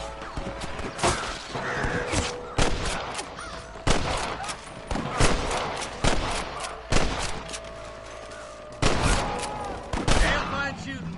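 Repeated gunshots and bursts of rapid fire crack throughout in Red Dead Redemption, close and loud, with indistinct shouting mixed in among the shots.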